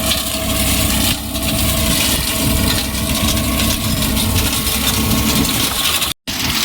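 A tractor engine runs hard, driving a seven-foot Jagatjit mulcher in a field, with a loud, constant diesel drone and rattling mechanical noise that carry steadily throughout, briefly cutting out near the end.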